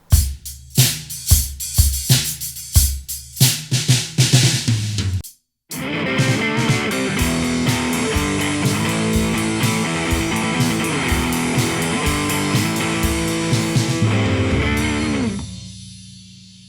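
A Gammon Percussion drum kit, tuned and improved, plays a quick run of punchy, tight hits, then drives a loud, full backbeat under dense band music.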